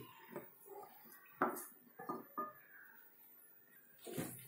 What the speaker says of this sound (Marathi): आता ह्याच्यामध्ये आपली ही उकडलेली मॅक्रोनी टाकून घेऊया आणि आपले रोस्टेड भाजी.